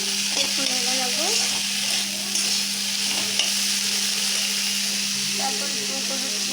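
Spinach and prawn curry stirred in a frying pan, a steady loud sizzle with scraping stirs throughout and a constant hum underneath.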